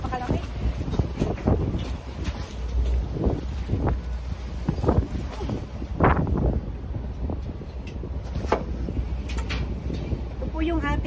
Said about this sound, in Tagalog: Pinakalakas po ng hangin.